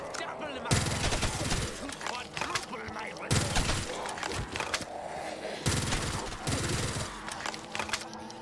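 Custom weapon firing in a Christmas zombie home invasion game, three loud sustained automatic bursts each lasting about two seconds, separated by short pauses, with game ambience between them.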